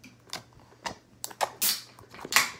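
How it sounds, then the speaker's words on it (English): Stretchy slime being squeezed and worked by hand gives off a run of sharp, close clicks and pops in irregular bursts, with no talking. "here's the clicking sound."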